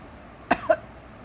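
A voice imitates a weak cough with two brief, soft coughs in quick succession, close and alone against a quiet background.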